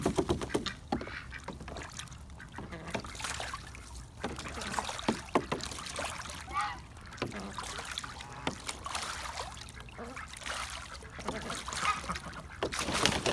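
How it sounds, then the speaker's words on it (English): Ducks and geese crowd around a backyard swimming pool, giving scattered quacks and honks over splashing water, fairly close and continuous. "I'm surrounded by ducks and geese."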